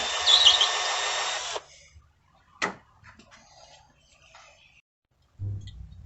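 Small drill bit boring into a wooden dining chair, a loud steady whir of about a second and a half, then a sharp knock and faint clicks and handling noises, with a low motor hum returning at the end.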